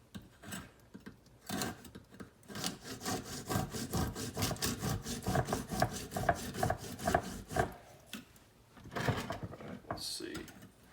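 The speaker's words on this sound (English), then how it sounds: "Just kind of score it and then tap it with a hammer." A serrated knife scores a block of clear ice in rapid rasping strokes, close up, followed by a few sharper taps, with people talking quietly at moments.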